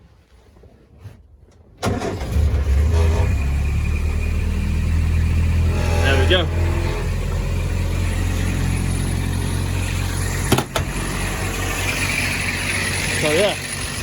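A car engine cranks and catches after a short quiet lead-in, then settles into a steady fast idle with the choke out, its low rumble loud and close while someone talks briefly over it.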